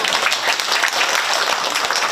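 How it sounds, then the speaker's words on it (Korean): Dense, steady applause from a crowd at a Korean community gathering, a continuous wash of clapping from start to finish. "동의하시면 박수도 합니다."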